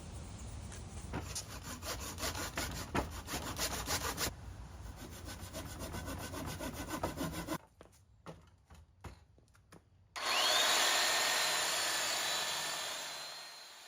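Hand saw rasping rhythmically through wood with steady back-and-forth strokes, followed by a few scraping chisel sounds and then a loud whirring power tool.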